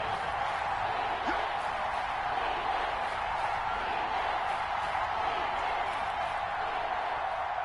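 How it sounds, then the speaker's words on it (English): A football stadium crowd roars and cheers ahead of a big third-down play, a dense steady wall of distant crowd noise with scattered whoops throughout. "The crowd getting into it as we come up on a big 3rd down."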